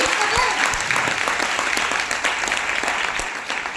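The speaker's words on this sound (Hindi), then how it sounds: "अगेन जोरदार तालियां" Dense, steady applause from an audience at a women's business mindset training session, loud and continuous for the whole stretch with no break.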